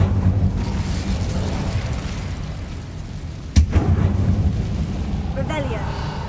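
An Incendio fire spell cast in Hogwarts Legacy gives a loud, sustained fiery roar with one sharp burst partway through, all under a steady low rumble.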